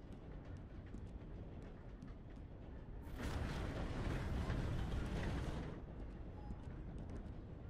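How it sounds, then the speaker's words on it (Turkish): A train rolls past in Red Dead Redemption 2, a broad rumbling, clattering swell that rises abruptly, holds loud for about three seconds with metallic creaks, then drops back to a steady ambient bed. "Şu tren bir geçsin."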